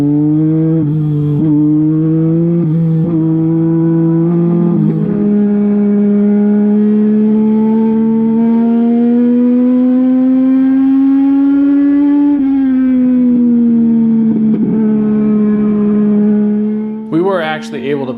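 A race car laps a track during a practice session, its engine a loud, sustained tonal drone that rises and falls in pitch as it accelerates and shifts. The engine is heard alone and close.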